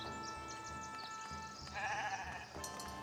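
Sheep bleat in a village-building indie game, several calls rising over a steady game ambience with a louder cluster near the middle.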